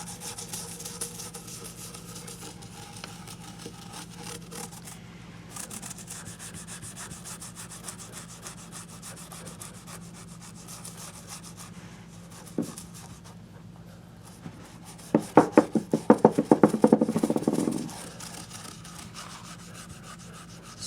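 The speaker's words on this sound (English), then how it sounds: "I'm going to set and scrub on this a little bit." An old toothbrush scrubs the dirty fretboard of a Yamaha SG1000 electric guitar, a brief, close, rhythmic burst of bristly rubbing strokes late in the clip over a steady low background hum.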